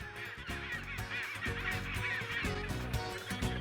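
Penguin chicks and adults on an Antarctic shore give loud, overlapping honking calls that keep going the whole time, close and with no talk.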